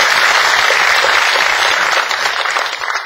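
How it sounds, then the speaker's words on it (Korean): Audience applause at a book concert commemorating President Roh Moo-hyun, a dense, steady clapping from a crowded hall that fills the whole moment and fades slightly toward the end, with no talk over it. "박수 한번 칠까요?"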